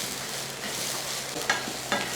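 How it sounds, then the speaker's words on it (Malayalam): Sesame seeds roasting in a hot pan over low heat give a steady, soft dry hiss, with a couple of brief scraping stir sounds near the end. "ഇനി നമുക്ക് ഈ എള്ള് ഒന്ന് വറുത്തെടുക്കണം."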